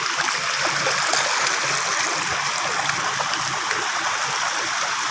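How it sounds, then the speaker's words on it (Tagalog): An artificial waterfall pours steadily nearby, a loud, continuous broadband rush of falling water with no pauses and no voices. "ito na yung artificial waterfalls"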